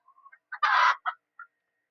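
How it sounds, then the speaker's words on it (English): Chickens clucking while being fed on a farm, a few short close clucks and one louder drawn-out squawk, heard alone against a quiet background. "Chickens are being fed."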